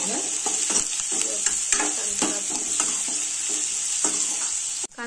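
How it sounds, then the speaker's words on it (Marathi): Onion sautéing in a pan until reddish brown, a continuous close sizzle with frequent scraping and stirring clicks from a utensil, ending in a brief knock. "कांदा थोडं परता इथे, थोडं लालसर ब्राऊन होईपर्यंत"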